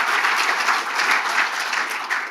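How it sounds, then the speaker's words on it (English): Sustained audience applause fills a theatre at a literary awards evening, a dense steady wash of clapping heard alone without a break for its full length. "Another round of applause for Auntie Dr."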